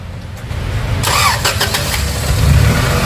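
A 1997 Honda Accord engine cranks and catches, settling into a loud, close idle with a brief starter whine at the start.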